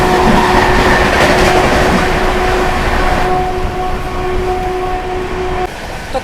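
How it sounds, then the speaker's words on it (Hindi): The Howrah Jodhpur Express rolls past at close range in a loud, continuous rumble of wheels and carriages, with clattering rail noise and steady tonal whines from the passing train. "हावड़ा जोधपुर एक्सप्रेस"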